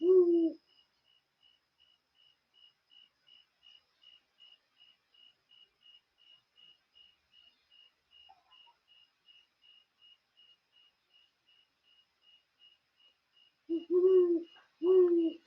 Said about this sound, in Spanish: vamos a escuchar el sonido del bosque y los búhos en el fondo que van apareciendo